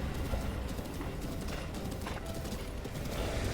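Horse hooves clatter in The Legend of Zelda: Breath of the Wild as a fast, continuous galloping clip-clop, loud and close, with no talk over it.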